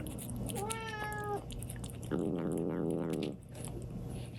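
A pet cat gives a rising, tonal meow, then after a pause crunches and chews dry food for about a second, close and fairly quiet in a still room.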